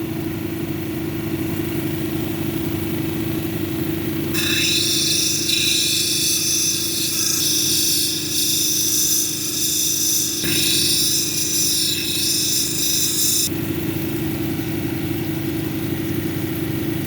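A lapidary grinding wheel at 220 grit shapes a marcasite cabochon, giving a steady high-pitched hiss of stone against the abrasive for about nine seconds over the constant motor hum, then easing off back to the motor alone.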